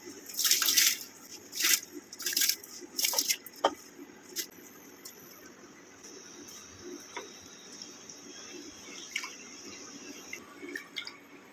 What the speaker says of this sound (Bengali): চালটা ভালো মতো ধুয়ে নিয়েছি এবার আমি দিয়ে দিচ্ছি